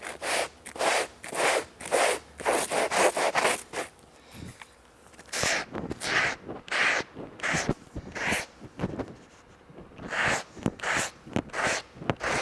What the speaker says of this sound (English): coarse bit of sandpaper, and I'm using my body file here